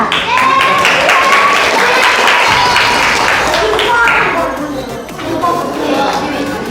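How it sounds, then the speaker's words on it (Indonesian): Schoolchildren clapping for a classmate in an elementary school classroom, a dense, steady patter of many small hands lasting several seconds, with children's voices and chatter mixed in throughout. "Tepuk tangan dulu buat temannya"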